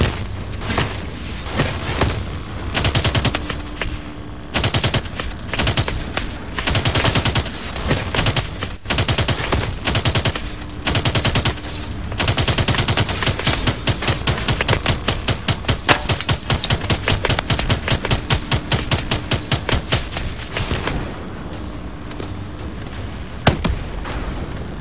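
Weapon fire in Call of Duty Advanced Warfare on PS3: loud, dense automatic bursts and rapid shots pour out almost continuously, broken by brief pauses and heavy booms.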